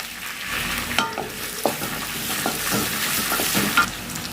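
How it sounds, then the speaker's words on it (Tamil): Onions frying in hot oil with fennel seeds and cardamom in a pan, a steady close sizzle broken by several sharp spoon scrapes and stirs, with no talking. "சோம்பு பொரிஞ்சு வரும்பொழுது வெங்காயம் சேர்த்துக்கலாம்"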